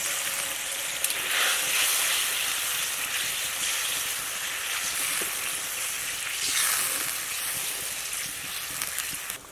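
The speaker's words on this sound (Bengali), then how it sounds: "ফেটানো দইটা ঢেলে দিচ্ছি।" Beaten yogurt pours into a hot pan with eggplant, producing a bright hissing sizzle that swells and fades in waves, close and moderately loud with no talk.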